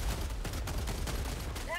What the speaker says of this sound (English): Actually, shooting auto cannon.